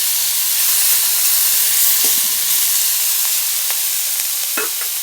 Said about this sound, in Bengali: তাহলে কুঁদরিটা ভেজে নিই।